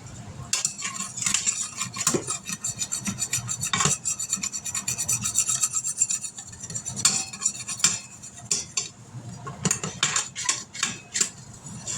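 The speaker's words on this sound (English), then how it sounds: "We're going to scrape all those little bits and pieces up." A utensil scrapes and rasps repeatedly against the metal bottom of an Instant Pot, loosening stuck bits while making bacon cheeseburger pasta; close, irregular strokes with no talking.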